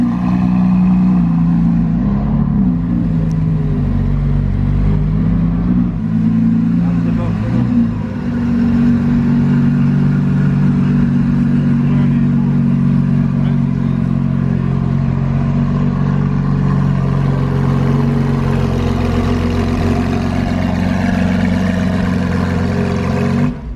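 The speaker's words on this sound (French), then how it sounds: "De l'autre côté ils ont démarré la SVJ pendant que j'attendais que la Dallara parte." A Lamborghini SVJ supercar engine starts and revs, a loud, steady, deep rumble holding throughout with slight swells in pitch, close by at an outdoor car gathering.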